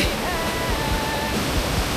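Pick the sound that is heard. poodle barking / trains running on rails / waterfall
waterfall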